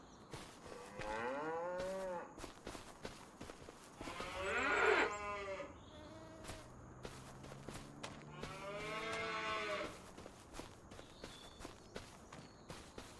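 A baby cow in the Farming Simulator 25 video game moos three times, drawn-out and tonal, each call rising and falling over a soft background of footsteps and ambient farm noise.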